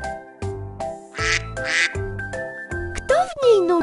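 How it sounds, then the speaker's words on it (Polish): A duck quacks in a cartoon animal-sounds piece for babies, set among music and narration: a few clear quacks near the end over a bouncy musical backing, following spoken narration. "Kaczka!"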